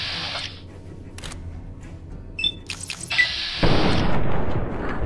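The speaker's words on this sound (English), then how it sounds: "If I do this and just shoot the gun 3 times" Gunfire in Fallout New Vegas: a couple of sharp cracks, then a heavier sustained blast that rumbles on, loud and near, after quieter shuffling and clicks.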